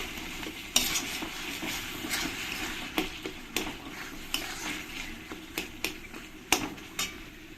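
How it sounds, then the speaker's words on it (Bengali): Fried spice paste for a Bengali prawn curry, cooked until the oil separates, is stirred in the pan. A steady close sizzle runs under repeated sharp scrapes and clinks of the spatula, with no talking. "এবার একবার আমি ভালো করে নেড়ে দেবো"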